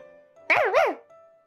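A person imitates a dog with a single two-part vocal bark, short and fairly loud, over a faint background hum.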